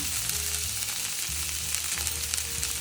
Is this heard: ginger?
yes